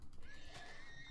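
A horse neighs in the Minecraft video game, a short, faint whinny over a constant background hiss.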